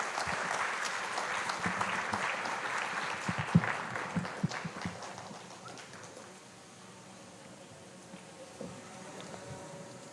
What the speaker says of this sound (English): Come on, everybody, please give a huge round of applause.